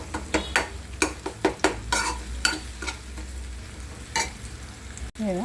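Tomatoes frying in a hot pan with red spice paste for a spicy eggplant curry, sizzling under repeated sharp clinks and scrapes of a spoon stirring against the pan, close and lively.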